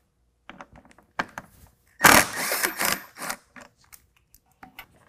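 An 8mm socket removes a headlight bolt on a 2022 Ford Bronco, producing scattered ratchet clicks and light metallic taps, with a louder burst of scraping and rattling in the middle.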